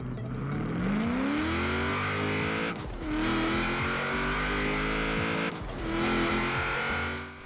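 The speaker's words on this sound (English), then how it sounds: "I'm gonna stop talking for a second as we listen to the engine" A Chevrolet Camaro Z28 in the Forza racing game revs through rising engine notes, with two brief gear-change dips, loud and close, with no talking.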